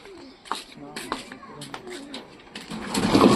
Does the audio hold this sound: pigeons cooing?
yes